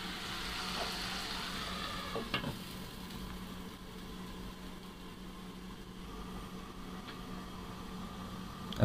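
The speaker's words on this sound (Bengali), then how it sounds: "মশলাগুলোকে কষাবো, আমরা একটু নেড়ে দিয়ে ঢাকনা লাগাই দেবো, দিয়ে মশলাটাকে কষাই নিব" Baim fish curry masala, a spice paste, cooking under a lid in a pan: a steady, soft sizzle and low hiss continues throughout, with a few faint clinks and no talking.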